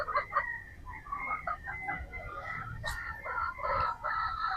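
Boston Roundhead gamefowl roosters at a game farm cluck and crow near and far throughout, with one loud crow cutting through the steady chatter of the flock.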